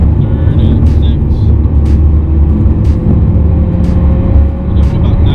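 Hyundai Veloster engine pulling hard at about 90% throttle on a road in Mexico, a loud steady cabin drone with low rumble and road noise running continuously throughout.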